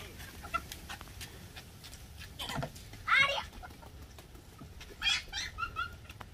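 Chickens on a farm give a few short clucks and calls at moderate distance, set against a steady outdoor background with brief bursts near the start, middle and end.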